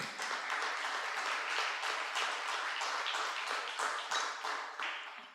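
A church congregation claps in a sustained, slightly rhythmic round of applause that stays strong and then tapers off at the close.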